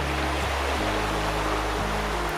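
A river runs steadily through North Devon countryside near an old weir or sluice, with a continuous broadband rush of moving water and a low rumble underneath, fairly close and unbroken.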